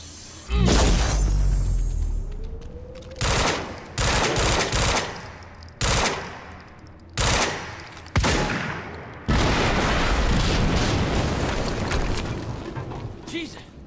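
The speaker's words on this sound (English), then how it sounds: "HQ, we just heard an explosion near the harvesting perimeter." Gunfire and blasts from the video game Quantum Break: a loud burst, then a string of sharp bangs and volleys with whooshes, ending in sustained heavy fire.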